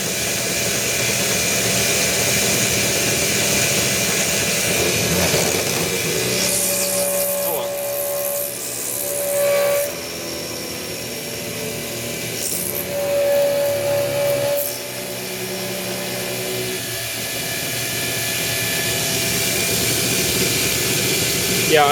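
A CNC mill slowly machining a titanium pendant by helical interpolation, a steady loud machine whine with shifting tonal hums and spindle drone throughout, while people talk nearby.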